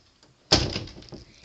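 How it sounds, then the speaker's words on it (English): An indoor door swinging shut with a single firm thud and a brief rattle as it settles, close by and fairly loud against a quiet room. "Shut the door."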